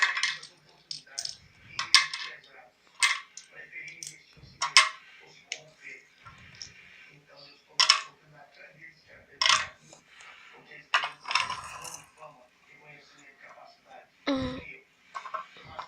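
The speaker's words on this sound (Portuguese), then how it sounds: "Deixa eu botar essa panela aqui dentro." Pots, glasses and a knife clatter and clink as dishes are handled and put away in a home kitchen, with a run of sharp metallic knocks and clinks under a young girl's chatter.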